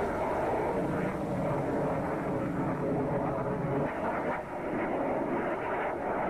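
Aircraft flying in the submarine video game Cold Waters, a steady broad jet roar at moderate level that dips briefly once and continues.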